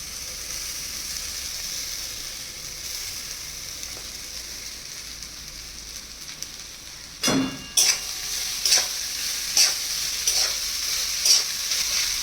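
Rice with boiled carrots and beans frying in a pan, a steady high sizzle with a series of sharp stirring scrapes and knocks arriving in the second half, close and alone.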